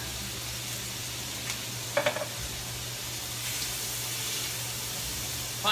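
Clams stir-fry in a pan with a spoonful of roasted chili paste, giving a continuous close sizzle broken by a few brief clinks of a utensil against the pan.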